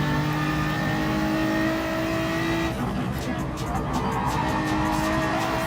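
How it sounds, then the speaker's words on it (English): A BMW M4 with a straight-six engine revs hard in a racing video game, a steady loud drone with tire squeal and skidding, under continuous race commentary. "I believe it's a straight 6 motor."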